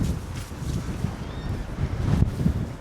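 Strong gusting wind buffets the microphone during an outdoor DJI Neo drone flight, a loud, steady low rumble that swells and dips throughout with no speech.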